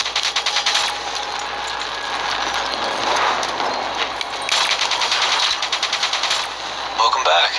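A minigun fires in Call of Duty Black Ops 3, a loud, rapid, continuous rattle of gunfire with a mechanical whir, running through the whole stretch with brief changes in intensity.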